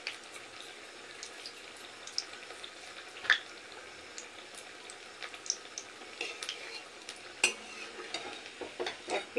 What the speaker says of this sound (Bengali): এবার একটু টাইম নিয়ে সাবধানে এপিট ইপিট করে আমি কাঁকড়লের টুকরোগুলোকে ভেজে নেব